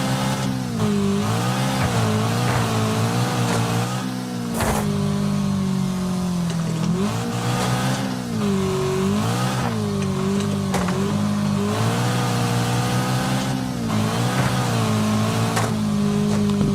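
A car engine drones steadily in the Wreckfest racing game, its pitch rising and falling through repeated gear shifts and revs, loud and continuous with no talk over it.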